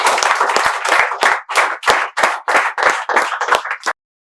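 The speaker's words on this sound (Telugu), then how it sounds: "మీకు ఇక్కడ ఉండే విద్యార్థులు చప్పట్లతో స్వాగతాన్ని తెలియజేస్తున్నారు." Students at a spoken English institute clap in welcome, a loud close burst of applause in uneven waves that stops abruptly.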